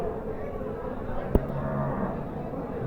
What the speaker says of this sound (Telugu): ఇది ఒక ఆవు